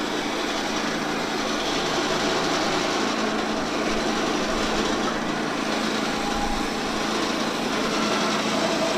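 A steady mechanical roar from a Woodland Mills sawmill engine runs loud and unbroken, a dense droning noise with no pauses or changes in pitch.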